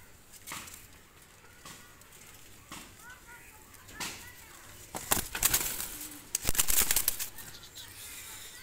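Two pigeons bred for flying are released and burst into flight, with loud wing flaps in bursts near the end after quieter rustling, a few soft coos and background noise.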